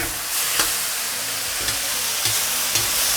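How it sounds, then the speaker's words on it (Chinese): Chopped button mushrooms and small chili peppers stir-fry in a wok over high heat, giving a steady loud sizzle broken by periodic scrapes of a spatula against the pan. "大火快速去翻炒它。"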